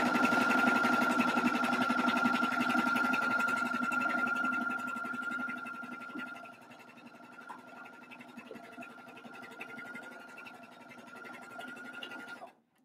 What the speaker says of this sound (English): press your foot down, continue to stitch